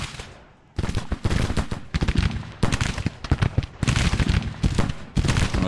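Rolling volleys of musket and cannon fire from a Civil War battle in Grand Tactician near Knoxville in 1862, dense overlapping shots in repeated loud bursts with brief lulls between them.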